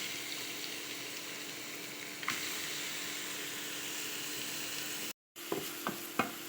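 Onions fry in a pan with a steady sizzling hiss that runs almost unbroken, cut briefly by a sharp gap and followed by a few light clinks and stirs.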